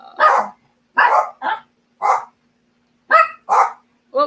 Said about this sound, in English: My dogs are barking here.